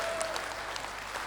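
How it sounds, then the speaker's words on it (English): An audience at a corporate year-end meeting claps in a brief, even burst of applause, fairly quiet and continuous. "Fresh clap, don't worry."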